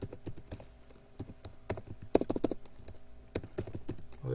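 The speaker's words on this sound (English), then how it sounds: "Otherwise it's gonna be more typing." Rapid, irregular keystrokes on a computer keyboard while coding a Java fraction class, close and clear, with bursts of tapping and brief pauses.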